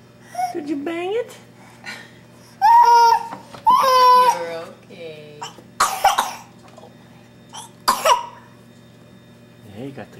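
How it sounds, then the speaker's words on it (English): A young child coughs in several short, harsh bursts, mixed with whimpering and crying sounds, close up in a quiet room with pauses between the fits. "Got the cough, huh?"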